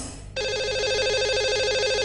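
A telephone rings as a radio show dials its lucky caller, a bright electronic warbling ring that kicks in abruptly and repeats steadily, clear and close with no talk.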